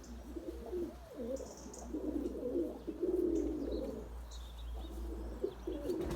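Pigeons coo repeatedly in low rolling phrases while pecking at soil after being kept indoors for two days, several birds close by with faint chirps and a low background hum.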